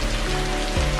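Rain falls steadily in a film scene, a dense continuous hiss of drops hitting surfaces, with a low rumble entering near the end and no talk over it.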